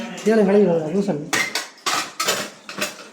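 Pots and dishes handled in a kitchen while fish curry is being cooked, a voice speaking briefly before a run of sharp metallic clanks and clatters in irregular bursts, close and loud.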